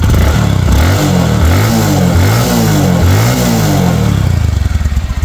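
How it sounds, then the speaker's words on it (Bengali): A second-hand Bajaj Discover 110cc motorcycle engine runs close by, loud and throaty, rising and falling in several quick revs with a smooth, even putter between them. "এখন বাইকটা স্টার্ট করে দেখাবো। দেখেন একদম স্মুথলি সাউন্ড রয়েছে"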